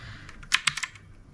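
A PICTEK mechanical keyboard is typed on up close, a quick handful of crisp, clacky keystrokes bunched together over a quiet background, with no voices.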